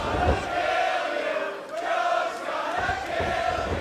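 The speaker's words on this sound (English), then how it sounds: "The crowd firmly behind Samoa Joe." Wrestling arena crowd cheering and roaring for Samoa Joe at a Ring of Honor match, a dense, steady wall of noise that holds at a constant level for several seconds.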